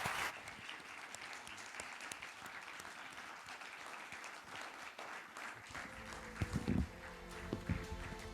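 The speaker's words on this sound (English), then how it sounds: "please join me in applauding this outstanding panel" A conference audience applauds a panel on Libya in a steady, fairly faint patter of many hands, with a few louder thumps and a voice near the end.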